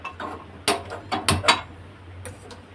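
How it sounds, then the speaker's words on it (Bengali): A gas stove igniter clicks several times in quick bursts, close and sharp, as the burner is lit before cooking. "এবার গ্যাসটা জ্বালিয়ে নিই আমরা"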